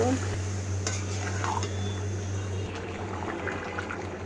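Meat being stirred and sautéed with spices in a pot, a metal spoon scraping and clinking against the pot over a steady low hum and soft sizzle.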